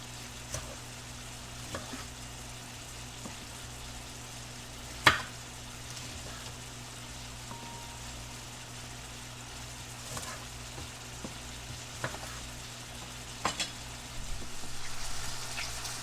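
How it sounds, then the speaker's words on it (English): Pork medallions sizzle quietly and steadily in a hot pan, a soft continuous crackle with occasional pops and a few louder clinks of utensils. "you can really hear that pork sizzling there"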